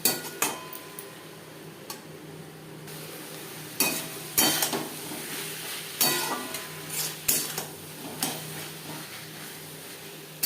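A spoon stirs salt, turmeric, ginger and green chilli paste into onion and tomato in a pan for fish roe chorchori, with repeated scraping clinks over a faint sizzle, close and unaccompanied by talk.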